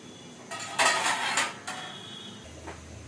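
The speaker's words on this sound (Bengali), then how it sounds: "এখানে কপির ঢাকনাটা তুলে নিচ্ছি" A metal lid is lifted off a pot of cooking cabbage, giving a few close clanks and scrapes of metal on metal, then quiet.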